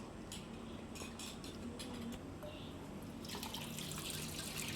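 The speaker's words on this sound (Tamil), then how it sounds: "புளி வந்து நான் ஒரு எலுமிச்சை பழம் சைஸ் எடுத்து ஊற வச்சு வச்சுருந்தேன் நல்லா கரைச்சி எடுத்துக்கணும்" Soaked, lemon-sized tamarind is squeezed and mixed by hand in a bowl of water, making continuous wet squelching and sloshing close by that grows louder toward the end.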